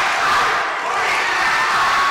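A loud, dense crowd at a high school boys basketball game roars and shouts continuously, a sustained wall of cheering voices filling the gym.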